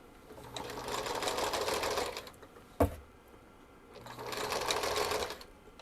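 A Singer sewing machine runs a single straight stitch line through fabric in two bursts of steady rapid whirring, split by a sharp click from the machine, close and fairly quiet with no talking.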